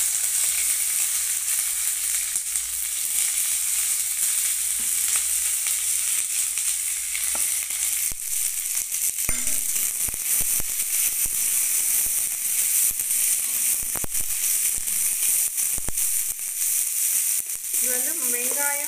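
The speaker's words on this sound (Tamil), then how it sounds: "வெங்காயம், வரமிளகாய், கருவேப்பிலை அரிஞ்சு வச்சுருக்குறேன், அது போட்டுக்கலாம்." Onion, dried red chili and curry leaves fry in hot oil for bread upma, a steady close crackling sizzle with a few sharp pops and stirring sounds, and a brief voice near the end.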